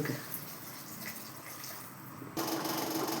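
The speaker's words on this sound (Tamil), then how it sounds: "தண்ணி ஊற்றிக்கலாம்" Water pours steadily into a pan of Tirunelveli poruma kuzhambu with coriander powder and salt, a hissing, splashing rush growing louder and fuller near the end.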